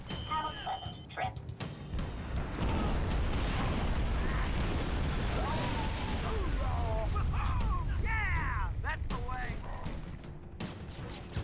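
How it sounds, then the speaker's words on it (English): Booming explosions and rolling gunfire from the Halo 3 ODST game rumble loud and sustained through most of the stretch, with game characters shouting over the combat. "Explosion"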